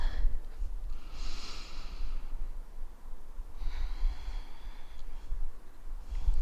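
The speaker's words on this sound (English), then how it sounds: "Last deep breath." Two slow, deep breaths during a yoga session, each a long airy inhale or exhale through the nose, soft and close, separated by a quiet pause.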